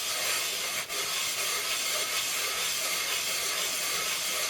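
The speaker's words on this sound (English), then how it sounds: "I'm going to take the ENJO Kitchen Scrub and give that a go on the same area." An ENJO Kitchen Scrub worked over a marble surface gives a steady, broadband abrasive rasp, continuous and close, with one brief break partway through.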